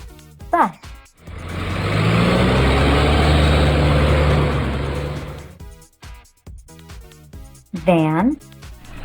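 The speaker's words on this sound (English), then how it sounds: "Bus." A bus engine idles and rumbles heavily, low and steady, for several seconds. A brief voice is heard before and after it.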